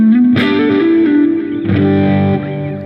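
Electric guitar lick played through distortion, chorus and reverb effects: a few sustained, bending notes ring out loud and alone, with a second attack midway.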